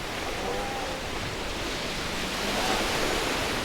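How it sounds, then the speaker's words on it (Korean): Real ocean waves recorded at sea in Okinawa, Japan, form a steady broadband wash of surf, continuous and fairly loud with no distinct breaks. "오디오 팀은 일본 현지 오키나와의 바다로 가서 실제 바다 소리를 녹음하거나"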